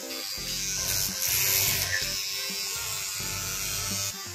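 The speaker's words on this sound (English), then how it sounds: "Super Baby is brushing his teeth" An electric toothbrush buzzes steadily as a young child brushes his teeth during a morning routine, a close whirring hum that pulses on and off with brief pauses over several seconds.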